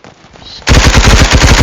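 Rapid automatic gunfire from the Roblox game Hypershot starts abruptly after a quiet moment and keeps up a fast, loud, steady burst of shots.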